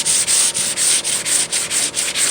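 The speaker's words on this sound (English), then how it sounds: "So here I go sanding this, block it on nice, no pressing," A hand sanding block rubs back and forth across a dent repair on a 1998 Toyota Sienna's body panel, about ten even, rhythmic raspy strokes, close and steady with no voices.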